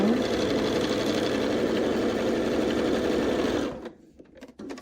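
A sewing machine stitches along a quilt seam, running steady, close and loud for nearly four seconds, then stops abruptly, leaving a few faint clicks and handling sounds.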